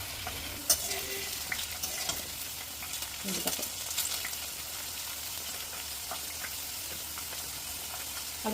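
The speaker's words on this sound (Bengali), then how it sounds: "তেল করে হয়ে গেছে, এগুলোকে অল্প করে আলুটা মিশতে হবে।" Thinly cut potatoes sizzle in oil while being stirred in the pan, a continuous close frying hiss broken by scraping clinks and stirring knocks, with no talking.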